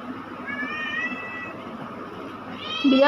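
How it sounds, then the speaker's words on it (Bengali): A cat at home meows repeatedly, close by, in drawn-out wavering cries over faint background noise, with a louder meow breaking out at the end. "বিড়ালটা শুধু ডাকাডাকি করবে"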